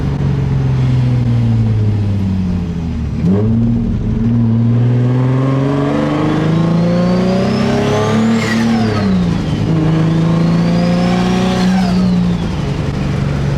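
A turbocharged car engine revs loudly and continuously, pitch climbing and dropping through several pulls with a high turbo whine rising above.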